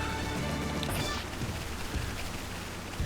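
Steady rainfall in the video game Xenoblade Chronicles: Definitive Edition, a continuous broadband hiss of rain pattering on surfaces throughout, with a few faint low thumps and no talking.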